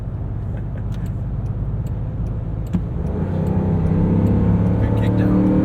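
A 2022 Land Rover Defender V8 two-door accelerates hard on transmission kickdown, engine roar building louder in the second half beneath someone talking inside the cabin.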